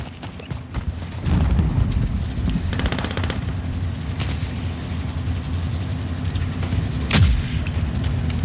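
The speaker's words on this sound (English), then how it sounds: "Cover fire, covering fire, covering fire." Machine gunfire in an online shooter game, a steady rattling burst of rapid shots that runs nearly the whole time, loud and close, with a few sharper booms mixed in.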